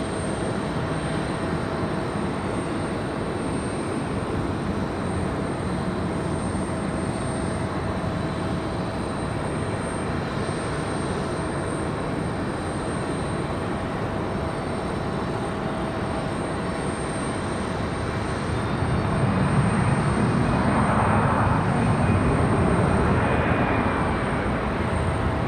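Airplanes at Raleigh Durham International Airport make a continuous jet engine rumble that carries on from a distance, then swells louder toward the end as a plane passes nearer.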